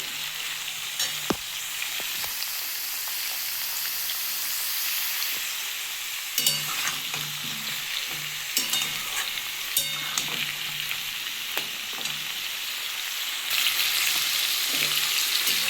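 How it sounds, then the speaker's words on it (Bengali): Ridge gourd slices frying in oil in a pan make a steady, close sizzle for the whole stretch, with occasional stirring scrapes and clinks that grow busier toward the end. "ঝিঙেগুলো দিয়ে হালকা করে আমি একটু ভেজে নেবো"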